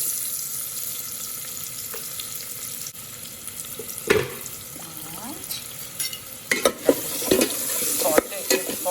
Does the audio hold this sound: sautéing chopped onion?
yes